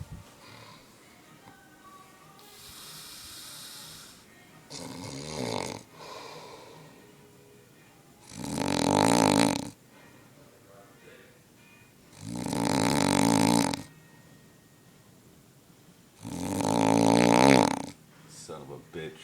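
A man snores loudly in slow, regular cycles, four or five long rasping inhales separated by quiet pauses, the later snores growing heavier and louder.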